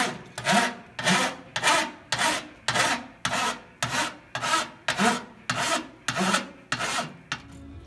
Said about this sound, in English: This is an antique Vixen file.